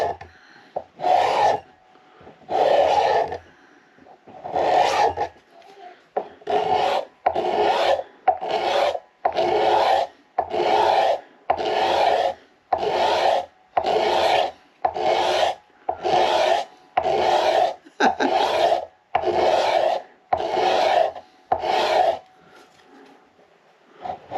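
A steel scraper shaves the wooden neck of a 1937 Martin D18 acoustic guitar in about seventeen even, rasping strokes, close and steady, each separated by a short pause.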